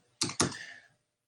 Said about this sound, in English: We are typing a script on a non-script writing software